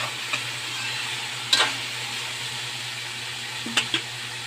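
Stirring in a pan after spices go in, a steady low sizzle with a few sharp scrapes of a utensil against the pan.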